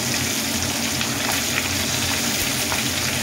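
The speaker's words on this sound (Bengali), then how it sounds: "চিকেনগুলো ভাজতে দিয়ে একটা পিঠ ভাজা হয়ে গেছে, একটু উল্টে দেবো" Chicken pieces for biryani fry in hot oil in a pan, producing a dense, steady, close sizzle with faint bubbling, continuous and without any talking.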